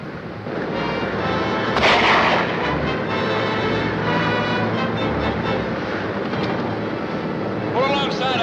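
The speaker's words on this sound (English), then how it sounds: "That cannon you got up there works, don't it?" A ship's cannon at sea fires a heavy, booming blast about two seconds in, ringing out over a continuous rumbling background with people talking throughout.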